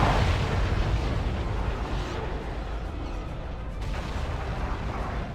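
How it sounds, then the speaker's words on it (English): Plasma torpedoes fired by a battleship in the space combat game Star Trek: Klingon Academy boom in a dense, continuous barrage of loud explosive rumbles, one blast rolling into the next with no pauses and no talk. "it's like right on top of me firing loads of plasma torpedoes"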